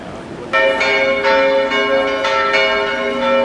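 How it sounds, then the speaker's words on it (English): Church bells in Switzerland ring on a Sunday evening, a sequence of loud, resonant strikes with long overlapping hum, sounding close and full with no talk. "Bells ring to call the"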